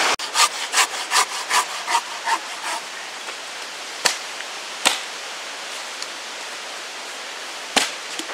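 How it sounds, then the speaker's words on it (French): Hand saw cutting wood outdoors at a bushcraft camp, a quick run of rhythmic rasping strokes for about three seconds, then quiet with a few sharp knocks and snaps. "Et Edgar a commencé déjà à scier du bois."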